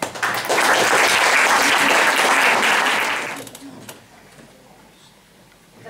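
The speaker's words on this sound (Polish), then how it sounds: "Wielkie brawa!" Loud audience applause at a youth music event, a dense burst of clapping lasting about three seconds that then tapers off into quieter room noise.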